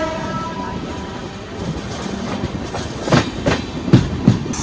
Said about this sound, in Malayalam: റായ്പൂർന്ന് സെക്കന്ദരാബാദിലേക്ക് വരുന്ന ഒരു എക്സ്പ്രസ് ആണ് ഇതേ പോകുന്നത്.